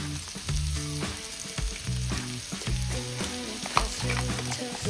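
Ginger, green chilli and garlic paste frying in a pan for egg rice, a steady close sizzle with stirring scrapes, heard over continuous background music.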